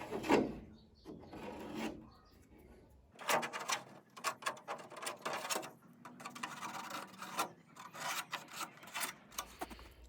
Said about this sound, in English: Now just removing the burr.